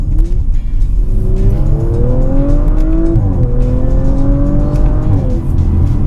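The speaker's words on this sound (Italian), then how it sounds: "questa RS5 ha l'option dello scarico sportivo" A loud Audi RS5 engine with sport exhaust revs up through rising and falling pitch sweeps, a deep exhaust growl continuing steadily throughout.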